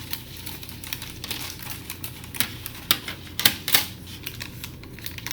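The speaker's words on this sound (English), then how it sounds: "So I have my clean scissors here. And I'm just going to cut" Sharp, closely spaced snips and crisp clicks, like scissors cutting through material, growing louder in a quick irregular burst.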